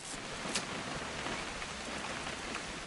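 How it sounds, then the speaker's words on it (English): Steady rain in the video game What Remains of Edith Finch pours down in an even, continuous hiss, with a few slightly louder patters of drops standing out briefly. "It's gonna rain the whole weekend,"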